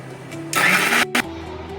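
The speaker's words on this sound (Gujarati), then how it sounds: "હવે આપણે આને પીસી લઈએ છીએ." An electric mixer grinds turmeric and spices for pani puri masala. It gives a loud, close whirring burst of about half a second, then a brief second pulse, both set against a low steady hum.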